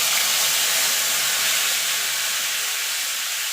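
Green chili and ginger paste sizzling and hissing steadily in hot oil with tempered spices, a dense continuous fry sound with no voices.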